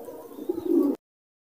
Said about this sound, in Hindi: क्या हमारे कबूतर खुले हुए गए